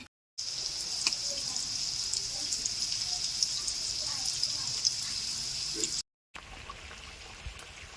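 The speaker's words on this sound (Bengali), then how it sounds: "কাঠের উনুনে এখন এই মাংসগুলো ভাজা হচ্ছে।" Meat sizzles and crackles continuously in a pan on a wood-fired stove, a bright hissing fry with brief cuts in the sound partway through.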